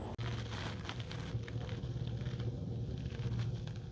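Steady rain falls outdoors at a rural home, a continuous dense hiss running the whole time with a faint low rumble underneath and no talking.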